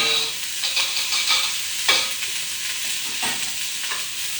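Butter melts and sizzles in a hot pan alongside biltong-spiced food, a close, steady hissing crackle with a few brief louder spits and no speech.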